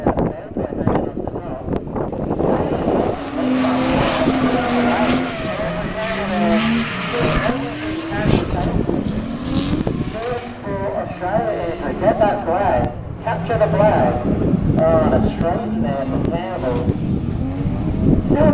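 Two similar Nissan Skyline R33 cars race closely on a track in a drifting competition, engines roaring loudly and continuously with revving, tyre squeal and skidding, under a commentator's voice.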